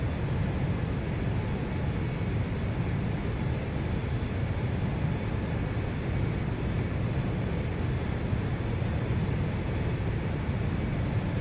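Steady, loud Fokker 28 regional jet engine roar in a flight simulator, a broad continuous rumble with faint high whine, holding evenly throughout with no talking.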